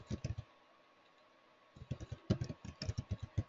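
A measure name typed on a computer keyboard, a brisk burst of close key clicks, a short pause, then a longer run of quick, crisp keystrokes.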